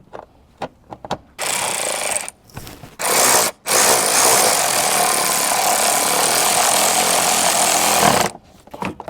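A power tool runs in long steady bursts, whirring with brief pauses between them, to tighten a bolt while spark plug coils are replaced on a Toyota Highlander; close and loud, with no talk.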